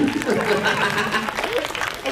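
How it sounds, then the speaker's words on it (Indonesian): Audience applause for actor Reza Rahadian at an Indonesian film event, clapping and light laughter mixed with a speaking voice and crowd chatter that stay prominent over the whole stretch. "Tepuk tangan buat Reza Radian"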